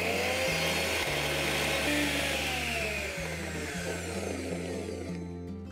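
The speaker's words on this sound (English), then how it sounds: "And now let's grind all these ingredients together." A kitchen grinder blending avocado and corn dip ingredients: a loud, steady motor whir with a rhythmic pulsing churn, close and continuous, slowly easing off at the end.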